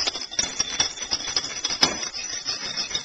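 Whisk beating a soy citrus sauce mixture with salt and black pepper in a bowl, quick uneven metallic ticks and scrapes repeating close up for a few seconds, no talking.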